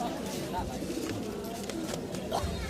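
Pigeons coo at a busy pigeon market in Jinjira, Bangladesh, with several soft calls mixed into crowd chatter and nearby voices.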